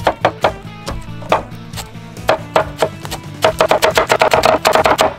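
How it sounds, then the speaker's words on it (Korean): A knife chops green onion on a cutting board, sharp rapid taps that start irregular and speed into a fast, even burst of close, crisp strikes over a low background hum. "이 신들린 칼질 제가 평소에 하는 칼질이 이게 편집의 힘이 아니고 진짜 하는 거야"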